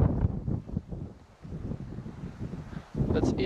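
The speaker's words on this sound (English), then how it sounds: "It's a bit windy here" Gusty wind buffets the microphone at a hilltop viewpoint on the Via Transilvanica trail in Bucovina, Romania, in a low, continuous rumble that swells and dips, with a stronger gust near the end.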